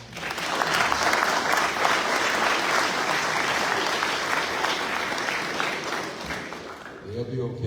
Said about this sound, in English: And so everybody clap it up for the family.